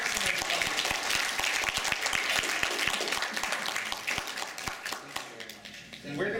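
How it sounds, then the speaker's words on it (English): A seminar audience gives a medical cannabis speaker sustained applause, dense and steady for several seconds and starting to thin out near the end. "Big round of applause for Dr. Sexton."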